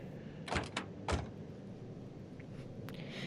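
A 2025 Chrysler Pacifica door clicks and thuds open in a couple of quick mechanical knocks, with quiet background afterward.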